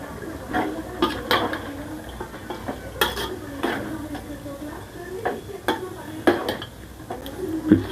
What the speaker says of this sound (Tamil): 3/4 கேஜி சிக்கன் நம்ம இதில் போட்டுக்கலாம்.